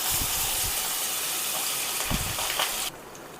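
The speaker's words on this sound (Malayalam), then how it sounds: "നമുക്ക് അടിച്ചു വച്ചിരിക്കുന്ന മാങ്ങ അതിലേക്ക് ചേർത്ത് കൊടുക്കാം." Blended mango hits hot ghee in a frying pan for mango halwa, giving a loud, steady sizzling hiss with a few soft thumps. The sizzle drops away abruptly near the end.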